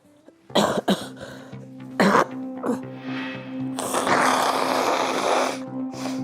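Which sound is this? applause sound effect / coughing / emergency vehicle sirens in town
coughing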